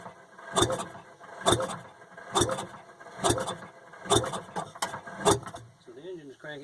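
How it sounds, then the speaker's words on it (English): An engine cranks over with a rhythmic, mechanical churning and roughly seven evenly spaced strokes, moderately close, then a brief voice at the end. "the engine is cranking over"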